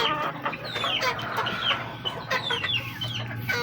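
Chickens cluck repeatedly nearby at a poultry farm, overlapping bursts of clucking and squawks from several birds, with a busy farmyard background.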